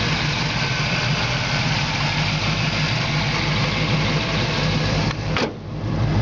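A 1972 Camaro engine with a Holley carburetor and Edelbrock intake idles with a steady, close rumble, then near the end a brief thump and a short dip break the constant drone.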